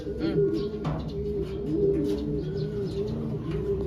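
Low, throaty pigeon cooing repeats steadily nearby, with a few soft chirps and faint background murmur.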